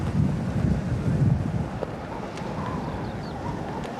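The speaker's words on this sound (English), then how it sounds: "Into this wind, I'm told, is blowing 40, 50 miles an hour at gusts." Strong, gusting wind buffets across a golf course, a loud continuous rush with low rumbling from the microphone being battered, and no talk over it.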